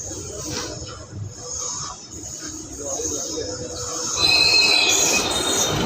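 Awadh Assam Express passing through Sonpur station, a steady rolling rumble of wheels on track that swells louder toward the end, with high metallic squeal and faint voices mixed in.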